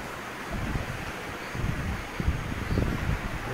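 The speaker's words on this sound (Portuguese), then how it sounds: "Vem de força, menino. A água tá ruim de força." Floodwater after 115 millimetres of heavy rain in Oeiras, Piauí rushes with a continuous broadband roar, with low rumbling surges and some wind buffeting on the microphone.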